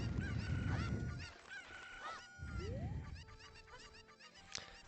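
Chickens in the video game Zelda Ocarina of Time, squawking and clucking in loud, repeated honking bursts over a busy game soundtrack, with a rising electronic tone and a sharp effect near the end.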